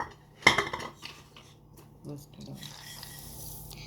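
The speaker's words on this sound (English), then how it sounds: "Now we're going to mix it all together." A spoon mixing sugar powder, salt and cardamom powder in a bowl for Goan neureos, starting with a sharp clink and followed by softer, scattered scrapes and taps against the bowl.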